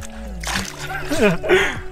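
Lake water fed by glacier melt splashed onto the face by hand, bursts of close splashing and dripping around the middle and end, with a voice and background chatter running through.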